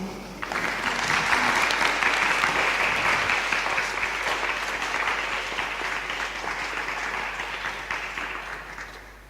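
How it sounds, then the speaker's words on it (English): Audience applause at a Dutch Art Institute public event after the day's first performance, a sustained, loud burst of many people clapping that starts abruptly and keeps going steadily, tapering only slightly toward the end. "The applause that we didn't do before as the first performance of the day."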